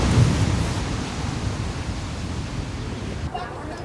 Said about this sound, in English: The storm's just peaking.